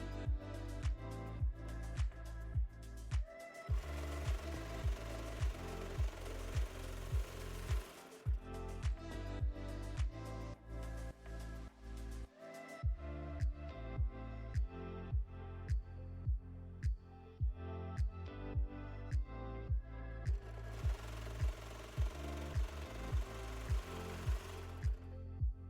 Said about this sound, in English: So now we're going to sew up the top of the shoulders.